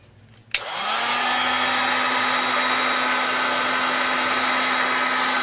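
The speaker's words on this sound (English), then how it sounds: "So we're just going to heat this." A heat gun clicks on and blows a steady, loud, close whoosh of hot air onto 3:1 heat shrink tubing, with a constant motor hum running unchanged to the end.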